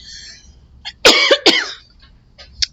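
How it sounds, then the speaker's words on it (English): A couple of sharp, close coughs in quick succession, with a softer throat sound afterward, in an otherwise quiet setting. "A tickle cough."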